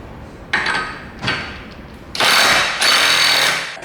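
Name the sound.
impact wrench tightening axle nuts on a Mitsubishi Evo 8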